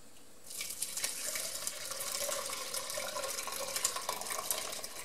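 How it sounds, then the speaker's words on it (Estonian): Soft curd cheese poured into a straining bag for homemade quark, giving a steady close wet gush and trickle of liquid that runs on without pause. "Ja nüüd ma kallan selle kohupiima"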